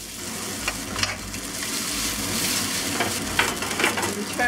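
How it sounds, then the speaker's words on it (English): Noodles and onions stir-frying in an oiled pan for chicken chow mein, a steady near sizzle with scraping and tossing of the food, no voices. "We'll saute the onions here."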